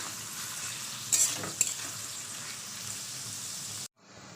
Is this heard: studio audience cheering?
no